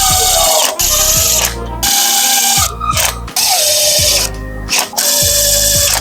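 A socket wrench ratchets on a bolt in a race shop with loud, close bursts of rapid clicking, broken by short pauses between strokes.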